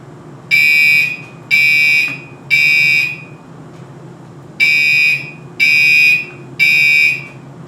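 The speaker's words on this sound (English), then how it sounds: "here's a sample of what the alarm will sound like" An electronic alarm beeps in six loud, shrill, evenly spaced pulses, with a short pause after the third, over a low steady hum.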